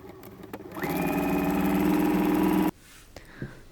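A sewing machine stitches the side seams that join the front and back panels of a shirt being remade into a dress. It runs in one steady, loud mechanical whir for about two seconds, then stops, leaving quiet handling noises.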